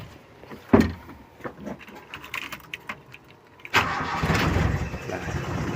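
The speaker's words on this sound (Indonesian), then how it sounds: "Sekarang kita coba nyalakan lagi untuk mesinnya." A Toyota Kijang, just back from an ECM module repair, cranks and fires up after a few quiet clicks, then settles into a steady, fairly loud idle with no talking.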